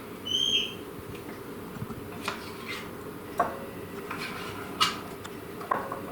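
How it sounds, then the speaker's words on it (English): A bird calls outdoors, likely an owl, with a few short, sharp, moderately distant notes spaced several seconds apart over a steady background hum. "I feel like I'm filming outside with that bird."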